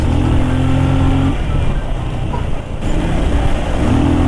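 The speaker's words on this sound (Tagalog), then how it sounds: "gusto ko yung hiyaw ng makina niya ngayon" A loud motorcycle engine drones and revs up close, its pitch rising and falling with throttle amid heavy rumbling road noise.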